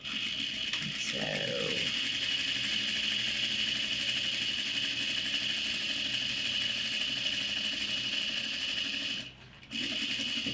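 A sewing machine top-stitches a bag strap with a continuous close mechanical whir. It stops briefly near the end, then resumes.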